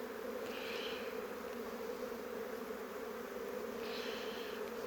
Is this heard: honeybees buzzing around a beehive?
yes